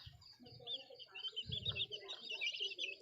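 Young chicks peep and chirp in a repeated, high-pitched chatter, fairly close, from a backyard flock raised with a single rooster, with a few low thumps and some background rustle mixed in.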